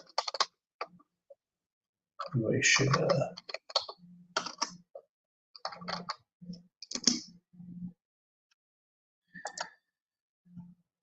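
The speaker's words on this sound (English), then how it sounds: "I'll probably be making some typing noises." Bursts of clicky keyboard typing come in short runs separated by pauses, close and crisp, with a brief spoken word in between.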